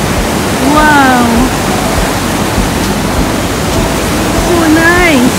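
Rushing waterfall at the Bells Rapids roars as a loud, steady broadband wash, with a person's voice calling out briefly twice over the constant water noise.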